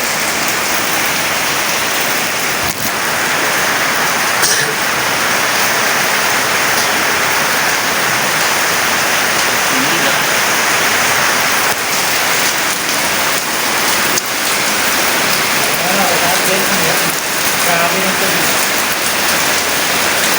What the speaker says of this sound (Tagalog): malakas ang ulan dito